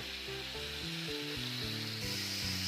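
Green chili paste sizzling in a pan of oil while cooking a tengra fish and eggplant curry, a steady close frying hiss with faint stirring underneath and no voices.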